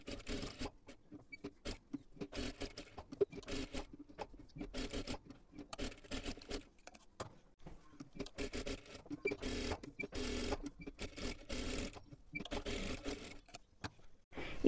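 Sewing machine stitching the lining of a katori blouse with a straight stitch in short rapid bursts, with pauses between runs, close by and fairly quiet.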